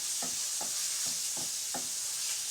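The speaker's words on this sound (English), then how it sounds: "Move it around the pan like so." Pad Thai ingredients pushed around a frying pan over a constant bright sizzle, with five or six evenly spaced scraping strokes of the spatula.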